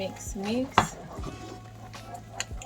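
Spoon stirring jollof rice in a pot, giving a few close clinks and scrapes against the metal over a quiet kitchen background with a low steady hum.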